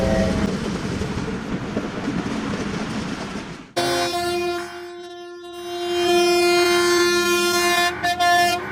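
A train passes an unguarded level crossing in Baku, Azerbaijan: steady rumble first, then a sudden loud, sustained air horn blaring in long blasts with brief breaks, close and dominant.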